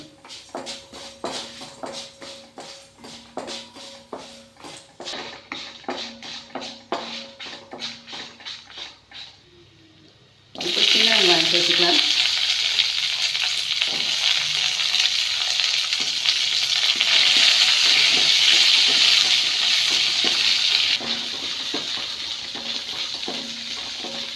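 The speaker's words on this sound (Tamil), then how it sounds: "கருவேப்பிலை தேங்காய் இதெல்லாம் போட்டு நல்லா செவக்க வறுத்துக்கலாம்" Curry leaves and grated coconut hit hot oil in a pan, bursting into a loud, steady sizzle of frying after a stretch of rhythmic stirring and scraping sounds.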